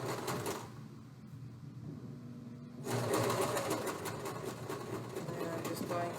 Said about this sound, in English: And I'm just going to continue to sew.